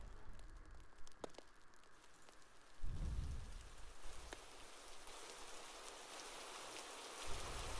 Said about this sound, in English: Are you kidding me? It's raining.